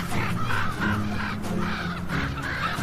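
Crows or ravens caw in a snowy far-northern landscape near a wolverine, several harsh repeated calls in an uneven rhythm, moderately loud and steady over a constant background.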